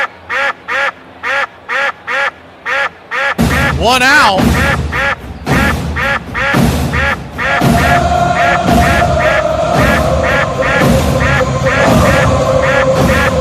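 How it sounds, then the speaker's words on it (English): Ducks quack repeatedly in short bursts on a pond, loud and close at first and then continuing under a baseball play-by-play commentator's talk and crowd noise at a spring training game. "Ducks all over the pond."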